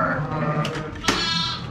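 Lamb on a farm giving a short, close bleat over rustling background noise, with no one talking.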